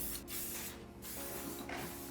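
Maxima SC1 coating sprayed onto a UTV from a spray can: steady, close hissing bursts that break off briefly and resume, with no talk.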